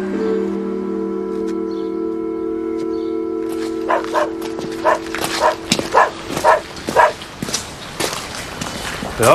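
A dog barks repeatedly in a series of close, loud yaps that start after a steady droning hum fades out.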